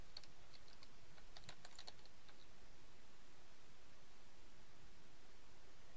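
Typing on a computer keyboard to search for a WordPress plugin: a quick burst of close, faint key clicks in the first two seconds, then quiet background hiss.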